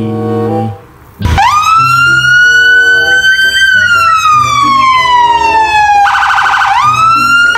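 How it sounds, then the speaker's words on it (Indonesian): A loud, close police siren wails up and down, then switches briefly to a rapid warbling yelp before resuming its long sweep. "Mobil polisi."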